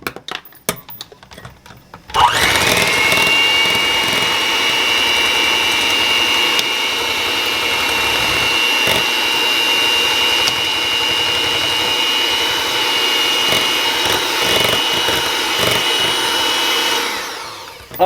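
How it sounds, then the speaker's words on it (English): An electric mixer starts up and whirs with a steady, high motor whine as it mixes custard pie filling with cinnamon, holding close and constant before cutting off. "Now, I'm going to mix this together."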